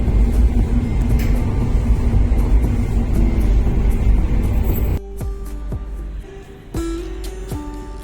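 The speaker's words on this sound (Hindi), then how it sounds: "मेट्रो एयरपोर्ट की ओर जाती हुई" A steady, loud rumbling of a metro train running toward Amausi Airport station in Lucknow, which drops abruptly to a quieter hum with a few faint tonal whines and clicks.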